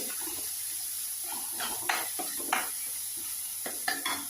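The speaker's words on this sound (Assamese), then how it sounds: "এতিয়া ভাজিম" Mutton and spices, including coriander, sizzle quietly in a pan while a spoon scrapes and stirs in short bursts, with occasional clinks against the pot.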